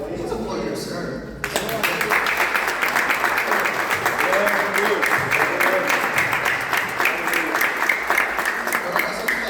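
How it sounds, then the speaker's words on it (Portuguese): After a brief quieter moment, a church congregation bursts into sustained rhythmic clapping in praise, dense and fairly close, with voices mingled in beneath. "Vamos aplaudir o Senhor?"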